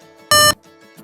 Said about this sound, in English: the Codey will make a beep sound